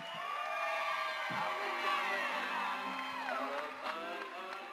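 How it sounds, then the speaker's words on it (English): A live fight-event crowd at Borroka 3 roars with whoops, cheers and shouts for champion Juan Archuleta, a steady loud wall of voices that swells and holds, with no clear clapping standing out. "Give your champion a round of applause, Juan Archuleta."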